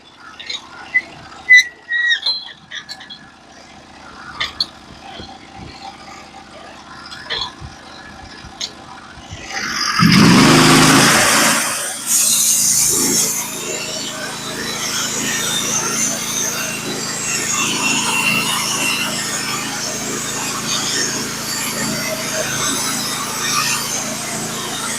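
A Norwood HD36v2 band sawmill engine roars up and runs steadily as the blade cuts a board from a log, loud and close, after a stretch of light clicks and handling noises.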